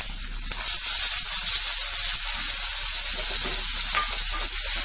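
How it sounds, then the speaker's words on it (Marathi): Onion fries in hot oil with asafoetida and curry leaves for a mixed vegetable dish, a loud, close, unbroken sizzle with faint stirring underneath. "कांदा चांगला तेलात भाजून घ्यायचा"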